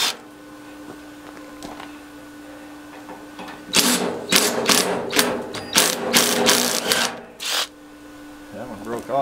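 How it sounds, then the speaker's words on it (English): A wrench ratchets rapidly on a bolt of an old scrap dishwasher, in several loud, close bursts of clicking after a quieter start, with someone talking nearby. "Put a wrench on the inside, I guess."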